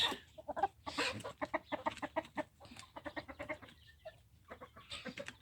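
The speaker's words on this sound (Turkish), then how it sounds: "Bu da Kazım'ın baktığı civciv kardeşi." Rapid, high-pitched cheeping from chicks on a free-range chicken farm fills the clip, close and continuous with short pauses, alongside some lower clucking.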